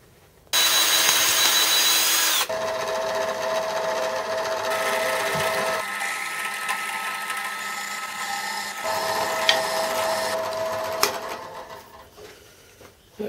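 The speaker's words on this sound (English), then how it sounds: "Okay, that's drilled through." A drill bores through a metal chuck part clamped in a vise, a steady whining motor that shifts pitch as the bit cuts, with brief clicks near the end as it breaks through and stops.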